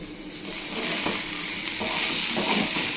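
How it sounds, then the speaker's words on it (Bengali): Okra (bhindi) curry sizzles steadily in a pan, with spoon scrapes and stirring knocks breaking through the loud, continuous frying hiss. "এই যে ভিন্ডির তরকারি হচ্ছে, হয়ে এসছে, এবার নামাবো"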